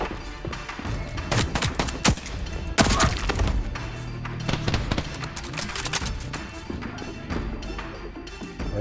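Heavy gunfire in the Voidtrain video game crackles in dense bursts of sharp, loud shots and impacts, with some clattering crashes and booms mixed into the barrage.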